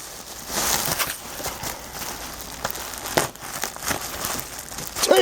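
Tape peeled off packaging holding PEZ stands, heard as close, crackly crinkling and tearing with several sharp snaps scattered across a few seconds, no talking.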